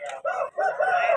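A rooster at a rooster market in Vijayawada crows once, loud and close, a rising harmonic call lasting just over a second with short breaks.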